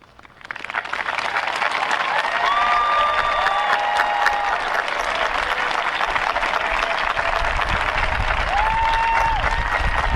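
Sustained, dense applause from a large graduation ceremony audience at Exeter in 2017, swelling within the first second and staying loud and steady, with a few whistle-like tones rising above the clapping.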